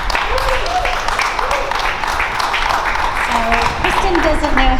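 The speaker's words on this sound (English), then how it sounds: "So let's all give a round of applause to Dr." Crowd applause at a grassroots rally at the Capitol for Dr. Yvette Lozano, a steady, dense wash of clapping with faint voices mixed in throughout.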